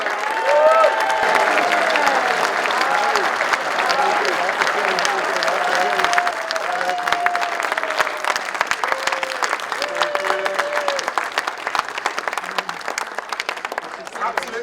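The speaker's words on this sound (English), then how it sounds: "I think you all deserve a round of applause." Audience applause at a community meeting about saving a local cinema, sustained dense clapping from a crowd with cheering voices and a few calls over it, loud and continuous throughout.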